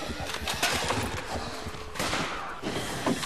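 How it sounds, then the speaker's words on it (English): Rifle shots in 7 Days to Die, alpha 9.3, fired while searching a town: a few sharp cracks spaced about a second apart over busy game noise, with clattering and footstep-like sounds between them. "Oh, I killed him with two rifle shots."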